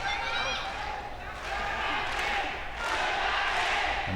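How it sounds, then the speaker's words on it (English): At a Pancrase MMA event, an arena crowd chants a fighter's name in rhythmic waves beneath a commentator's voice, with cheering rising and falling at moderate volume. "And the crowd chanting Funaki's name."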